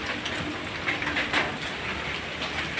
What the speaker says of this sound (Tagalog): Medyo tumitila na naman ulan.